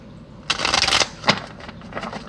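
Two bursts of cards being shuffled close up, a long riffling rush followed by a shorter one, then softer scattered handling.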